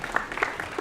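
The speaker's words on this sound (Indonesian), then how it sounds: "tepuk tangan" Brief, moderately loud applause from a high school audience in Palembang, scattered hand claps with a few voices calling out in the crowd.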